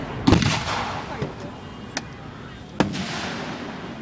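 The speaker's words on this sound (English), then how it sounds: "Oh, that's a firework." Fireworks explode outdoors: a loud close boom, then a few sharper distant cracks spaced over about three seconds, each followed by a fading crackle, against a background of crowd murmur.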